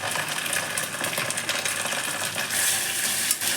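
Spices sizzle and crackle in a pan: ginger, cumin, coriander and dried chilli stirred over browned onions for a potato omelette curry, a steady close hiss with scraping stirs and a brighter burst of sizzle late on.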